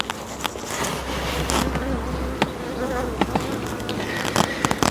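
A honeybee swarm buzzes loudly and continuously while being moved from a nucleus hive into a full hive, a dense insect drone with scattered close bees and occasional knocks and clicks of hive handling.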